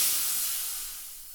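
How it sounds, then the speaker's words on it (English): High-pressure air at 3,200 psi bleeds from a Benjamin hand pump in a sharp, loud hiss that slowly fades over a second and a half, heard alone. "Let's let the air out here."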